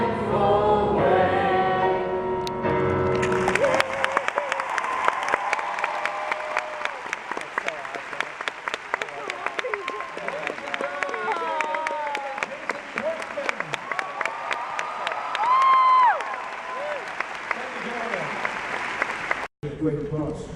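Audience applause breaks out after a Mary Poppins song performed live, following a brief musical ending; loud sustained clapping with some cheers carries on for many seconds before cutting off.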